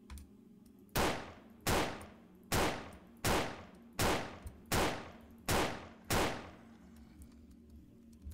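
Gunshots fired at a monster in the horror video game Devil's Valley: eight loud, sharp reports spaced about two-thirds of a second apart, each with a short decaying tail, and no talking.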